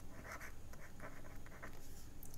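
Hand-written equations being worked out, a pen or marker scratching and tapping in short bursts of strokes with brief pauses, close and fairly quiet, no talking.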